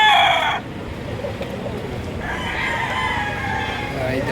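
Red claret gamefowl rooster crowing outdoors in Lipa, Batangas, a loud close call at the start followed by a second long crow, with someone talking faintly in the background.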